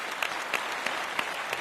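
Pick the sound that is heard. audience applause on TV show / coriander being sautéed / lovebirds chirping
audience applause on TV show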